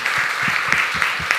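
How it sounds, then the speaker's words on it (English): Audience at a geriatric cardiology interview lecture gives a round of applause, a steady dense wash of many hands clapping throughout, with a few sharper individual claps standing out. "a big round of applause"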